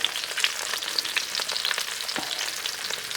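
Chicken pieces for a crispy cheesy sandwich sizzle on a hot Blackstone griddle, a loud, even, close hiss with fine crackles running steadily throughout, no talking.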